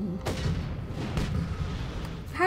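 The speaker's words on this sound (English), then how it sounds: "How many explosions?" Repeated booming blasts from the video game Just Cause 3, dense low rumble with sharp bursts, under faint talking.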